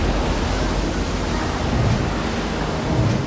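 Strong gusting wind and rough water in the Marlborough Sounds, New Zealand, on a freak stormy day: a loud, steady roar of wind and churning water fills the whole stretch without a break.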